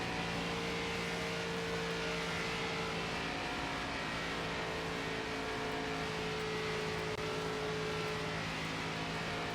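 An ARCA race car engine at full throttle on the Kansas track in the NASCAR 25 video game, a steady, droning roar held for several seconds without letting up.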